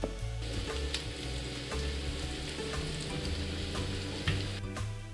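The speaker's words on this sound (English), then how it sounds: "Bread and fry those juicy little fillets up." Breaded grouper fillet pieces fry in olive oil with a steady, close sizzle and crackle that holds throughout, with no talking.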